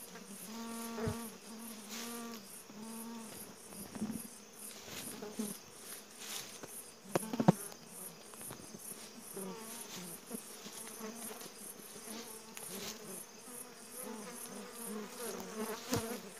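Honey bees buzz steadily around an open hive during a honey harvest, a dense insect hum running throughout with brief scattered knocks and rustles, loud and close.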